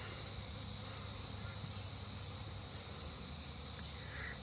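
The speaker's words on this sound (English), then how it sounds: "all the bees that are flying around" Honey bees swarm around repaired hives on orientation flights, a steady faint high buzzing hum that holds evenly throughout with no breaks, distant and continuous.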